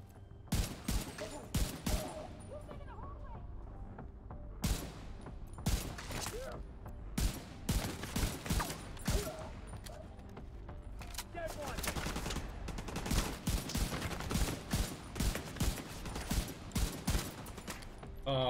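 Weapon fire in the game The Division 2 comes in repeated bursts and single shots with short pauses, close and punchy, across a long firefight.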